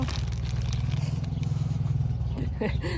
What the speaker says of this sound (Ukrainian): Є там трактор десь, да, деринчить?